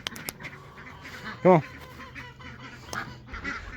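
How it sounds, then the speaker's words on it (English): Ducks at a backyard patio pond give one short, loud nasal quack midway. Faint bird calls sit in the background, and a person speaks briefly nearby. "Oh, the ducks. So noisy."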